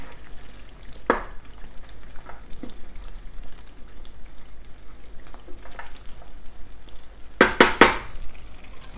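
Beef stirred into hot oil in a stew pot for a Ghanaian beef stew, a soft low sizzle broken by a few scraping stir strokes and a cluster of sharp clatters near the end.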